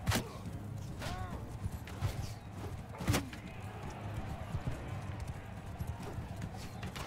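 Horse hooves clip-clop rhythmically in the video game Mount & Blade II: Bannerlord, a moderate steady gait punctuated by a few sharp impacts, heard faintly beneath low background sound.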